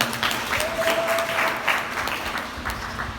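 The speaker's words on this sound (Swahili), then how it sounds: "pigie makofi" A congregation at a Catholic charismatic gathering claps hands: dense, steady applause fills the room throughout, with a faint tone and murmur beneath.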